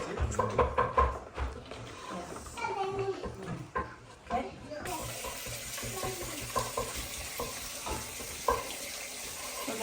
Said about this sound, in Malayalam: ഈ പൊട്ടറ്റോ ഒന്ന് മുങ്ങി കിടക്കാനുള്ള വെള്ളം ഒഴിച്ചാൽ കേട്ടോ